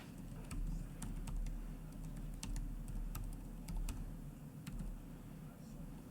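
A password is typed on a computer keyboard as a quiet run of irregular key clicks, some taps sharper than others, over low room hum.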